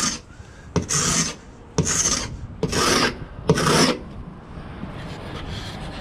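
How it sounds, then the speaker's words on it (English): A hand paint scraper rasps bottom paint off a boat hull in five long, loud strokes with brief pauses between, harsh and close. "So I went out and I bought a scraper from Home Depot."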